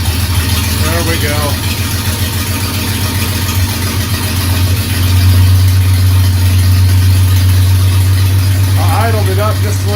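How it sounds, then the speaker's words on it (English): The engine of a 1948 Dodge Custom sedan idles with a low, throbbing rumble, rising to a slightly higher, steadier idle partway through; brief voices are heard over it. "I idled it up just a little bit."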